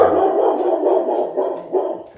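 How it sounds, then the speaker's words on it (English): Several dogs barking in a loud, steady run of overlapping barks close by, with no speech over them. "and dogs barking"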